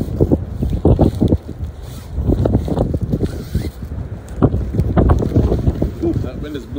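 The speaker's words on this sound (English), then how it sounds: "that wind is blowing" Wind gusting outdoors against a microphone during portable radio antenna mast setup, giving loud irregular buffeting rumbles, with a person talking.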